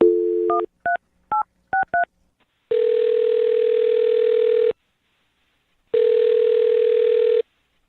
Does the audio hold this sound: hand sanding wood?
no